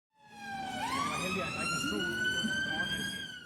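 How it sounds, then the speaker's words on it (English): A loud ambulance siren approaching, its tone climbing and then holding high at a raised Doppler-shifted pitch as it sounds steadily for a few seconds against some background noise. "So when the ambulance is approaching you,"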